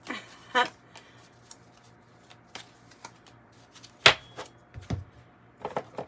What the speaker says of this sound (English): I'm sorry, this is a little bit of a long shuffle